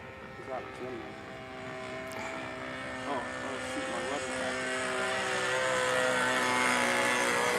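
Glow-engine drone of an RC model plane with an OS LA 65 engine flying overhead, a steady buzzing tone that swells gradually louder, with people chatting throughout.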